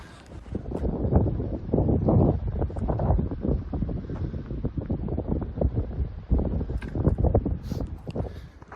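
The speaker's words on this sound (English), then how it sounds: "it's good to get up and over that ridge and out of that high wind" High wind blows over a mountain ridge in the Trinity Alps, roaring and buffeting the microphone in gusty waves. The sound is loud and continuous, with no voices.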